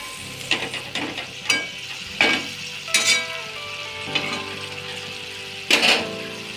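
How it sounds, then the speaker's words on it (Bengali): Spice paste with turmeric and water fries in a pan for mustard pabda fish, a continuous close sizzle broken by periodic scraping stirs of a spatula. "মশলাটাকে ভালোভাবে কষিয়ে নেব"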